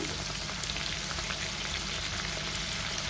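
Chicken pieces frying in a pan with chili powder, pepper powder and masala, a steady dense sizzle with crackling spatter that holds even and close throughout, no talking.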